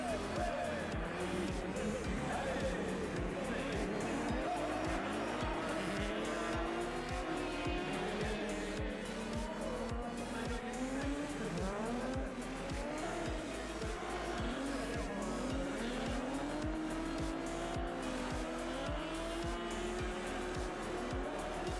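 Combustion-engine race cars on the Trophée Andros ice track at Isola 2000 roar and rev continuously, with tires squealing and skidding as several cars battle closely, loud and unbroken throughout.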